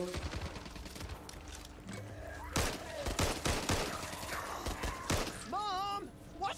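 Rapid bursts of gunfire from a shooter game crackle through the scene, dense volleys and single shots mixed with movement and thuds while voices talk over the action.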